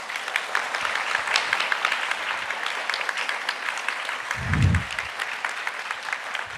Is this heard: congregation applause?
yes